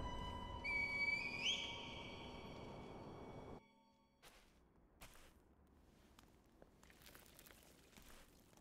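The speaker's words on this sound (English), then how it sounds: "Call the divine air with the reed whistle." A reed whistle blown in Sekiro: Shadows Die Twice gives a clear rising whistle tone early on over a steady ambient hum, then the scene drops to quiet with scattered light clicks and rustles.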